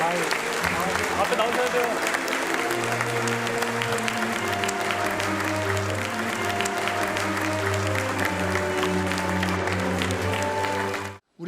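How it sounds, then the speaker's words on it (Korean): A standing audience gives sustained applause to welcome returning Korean athletes at a ceremony, with clapping mixed with music and a voice speaking over it for about eleven seconds before it cuts off abruptly. "모두 자리에서 일어나 큰 박수로 맞이해 주시기 바랍니다"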